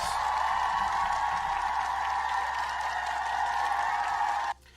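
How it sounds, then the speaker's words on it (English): Loud, steady crowd noise with applause and cheering at a live event, sustained without a break and then cutting off sharply near the end. "Let's have a cheer about this."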